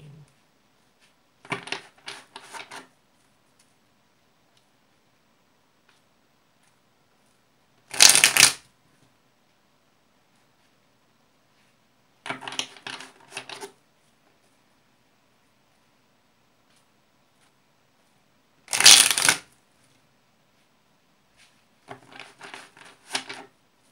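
Tarot cards shuffled in several separate bursts of riffling and flicking, each a second or so long, with quiet pauses between and two sharper snapping riffles standing out.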